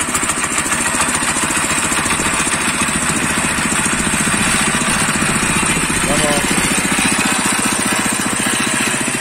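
Kaan 26S tiller engine idling, a steady loud close-up rhythmic chugging throughout, with a voice briefly talking over it.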